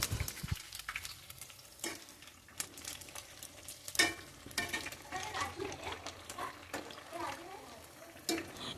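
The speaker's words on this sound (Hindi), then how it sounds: "इसको थोड़ा सा गोल्डन कलर आने तक फ्राई करना" Food frying in oil in a pan, with a steady sizzle under repeated clinks and scrapes of stirring, close and fairly quiet.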